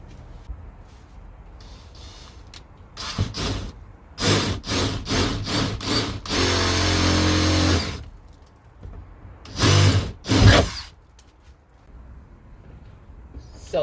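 Power drill with a small bit boring into the metal roof of a camper van, a few short whining bursts then a sustained grinding run of about two seconds, followed by two more brief bursts, close and fairly loud.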